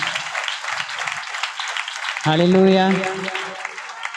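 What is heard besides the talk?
congregation applauding loudly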